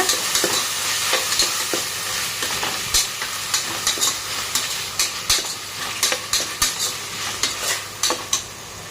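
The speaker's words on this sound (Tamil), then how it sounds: "போட்டுட்டு அதையும் நல்லா வதக்கி விடுங்க" Mixed vegetables and tomato sauté in a hot pan for a vegetable paneer biryani, with a steady sizzle under repeated scraping and clacking stirs of a spoon against the pan, close and continuous.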